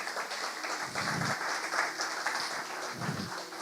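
A church congregation applauds with steady, dense clapping that holds at a moderate level throughout.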